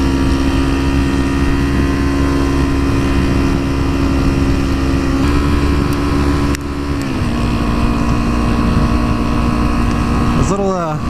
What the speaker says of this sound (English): Getting some resonance with their exhaust, that's kind of fun.